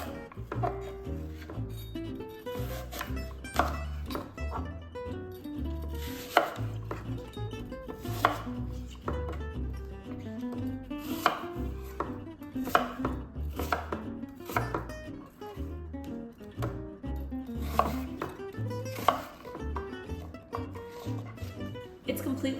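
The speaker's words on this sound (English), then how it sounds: "It's completely fine to roughly chop the apples" Honeycrisp apples being roughly chopped with a knife on a board, the cuts sounding under steady background music.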